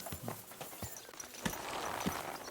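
Horse hooves clip-clop in Kingdom Come Deliverance II, a quiet, rhythmic run of soft hoof thuds on the ground at walking pace, with faint ambient noise and no talk.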